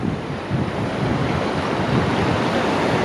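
Lake water overflowing from Ekruk Lake (Lake Hipparga) in Solapur rushes across a submerged road, making a loud, steady, broad roar that continues without a break and with no talking.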